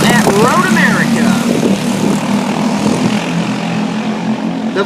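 A pack of Briggs 206 racing karts accelerates away at the green-flag start at Road America, a loud droning engine roar with rising, sweeping pitch from several machines, while a commentator talks over it.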